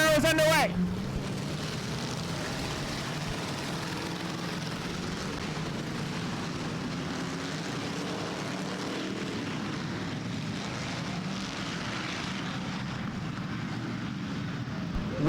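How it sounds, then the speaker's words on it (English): Eight-cylinder enduro race cars, including a hearse and a limo, pound around Star Speedway at a Halloween race in a constant loud, dense engine roar, with a track announcer's voice in the mix. "8-cylinder Enduro is underway."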